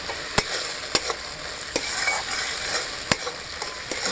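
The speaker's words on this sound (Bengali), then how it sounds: "মশলাটা একটু কষিয়ে নেব।" Spice paste with ground green chillies frying in a pan for pabda fish curry, a bright continuous sizzle with occasional sharp utensil scrapes, close-up and alone.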